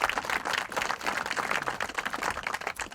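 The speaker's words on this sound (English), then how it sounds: "let's give them a round of applause as well" Applause from a crowd at an outdoor ribbon cutting for the Ute Pass Regional Trail, a dense burst of many hands clapping steadily for about three seconds, fairly close and without speech.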